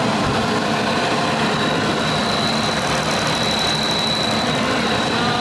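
A 2020 Jeep Gladiator Rubicon engine idles steadily after a rebuild, a broadband rumble with a faint high whine running through it, no voices.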